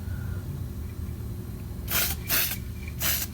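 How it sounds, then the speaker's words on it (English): Aerosol spray paint hisses from a can that is sputtering and splattery, in three short bursts near the end after a quiet stretch of room tone. "this paint is not coming out as smooth as I'd like it. It's pretty kind of splattery there, so I'm going to do the best I can not to overspray this"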